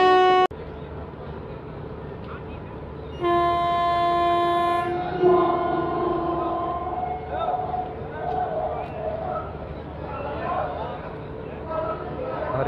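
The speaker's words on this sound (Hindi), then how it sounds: "हरी झंडी जो है ट्रेन को दिखा दी गई है" The Lalkuan-Bandra SF Express departs Lalkuan Junction with a sustained horn blast, then rolling rail noise and rumble as the decorated train pulls out, while people chatter in the background.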